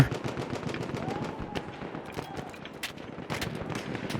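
Rapid bursts of gunfire in the video game Battlefield 1, with dense overlapping shots and sharp cracks over a busy battle din, loud and continuous throughout.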